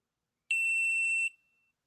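A single steady electronic beep, high-pitched and clean, lasting under a second before cutting off, alone in silence.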